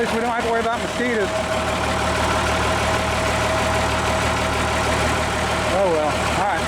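A 1952 Unit crane's engine idles steadily and loudly up close, a constant mechanical drone with a low throb, while voices talk intermittently over it.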